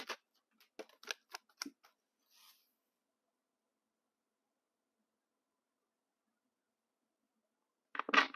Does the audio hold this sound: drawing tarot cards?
yes